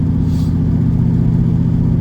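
A straight-piped Camaro with an X pipe and no muffler rumbles loudly and steadily up close, a deep, throaty exhaust drone held at constant revs.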